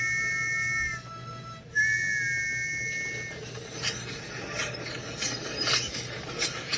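A cartoon steam engine, Thomas the Tank Engine, whistles in his sleep in two long, steady tones, then gives way to softer rasping, puffing noises over a low hum.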